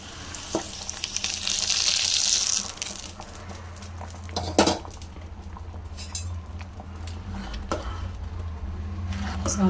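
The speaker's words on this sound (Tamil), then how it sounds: "முள்ளங்கி போட்டு வதக்கிடலாம்" Radish pieces sautéing in oil in a pan after cumin seeds have crackled, for idli sambar: a steady sizzle with occasional metal clinks of a spoon stirring, louder in the opening seconds, with no talk.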